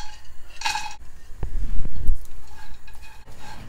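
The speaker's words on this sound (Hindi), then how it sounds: "हमने एक छोटा पैन ले लिया है और जो ड्राई फ्रूट है इसको हम ड्राई रोस्ट कर लेंगे" A metal spoon stirs and scrapes through dry fruits dry-roasting in a small pan, with clinks and soft rattling up close over a faint background hiss.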